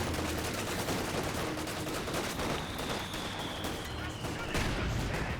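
Dense, continuous battle noise from Company of Heroes 2, an Axis vs Allies match, with rapid rifle and machine-gun fire crackling throughout at steady loudness and a heavier burst near the end.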